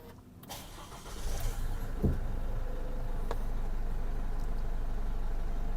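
A 2022 Isuzu D-Max 1.9 X-Series pickup with automatic gearbox is started by push button, the engine catching with a brief rise and then settling into a steady, close idle that continues to the end.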